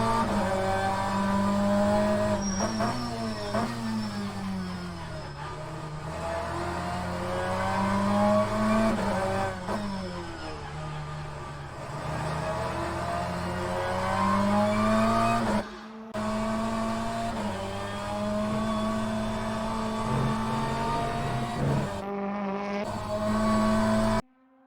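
Continuous engine roar of a Super Touring car lapping Silverstone in Assetto Corsa, revs rising and falling through gear changes, steady and close throughout.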